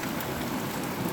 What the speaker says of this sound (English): I just heard the note of the rain coming down.